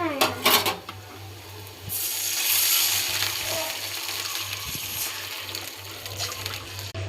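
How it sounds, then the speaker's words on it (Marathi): Water is poured into a pan of fried onions while white upma cooks, a steady rushing splash and sizzle lasting several seconds after a few clinks of utensils, with a low hum underneath. "आपण आता यामध्ये पाणी ॲड करूया।"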